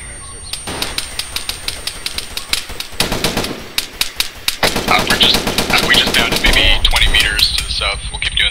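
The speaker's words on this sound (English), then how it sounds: "you want to lay down suppressive fire?" Rapid machine-gun suppressive fire in ARMA 3's Vietnam War setting, loud bursts of fast regular shots that run continuously and grow denser, with radio-style voices talking over the gunfire.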